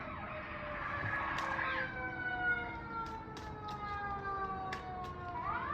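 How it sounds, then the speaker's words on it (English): An emergency siren wails steadily, its pitch sliding down and back up as it passes nearby, fairly loud over low street noise. "I'm just gonna let that siren go by."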